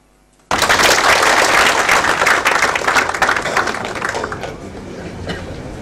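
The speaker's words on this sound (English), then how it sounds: "you must give him a big applause" Audience applause breaks out suddenly after a moment of quiet at a medical cardiology conference, a dense, loud clapping that holds steady and then thins slightly toward the end.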